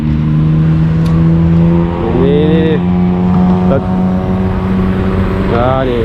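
A tourist car drives past near the Giant Swing (Sao Chingcha), a loud engine drone with rising revs and whining pitch sweeps, someone talking over it throughout.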